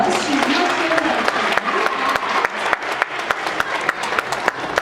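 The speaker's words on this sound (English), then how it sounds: "Let's give her a round of applause" Audience applause for Viji auntie at the Chinmayam Summer Camp: a sustained crowd of hands clapping, steady at first, then thinning into scattered sharp individual claps near the end.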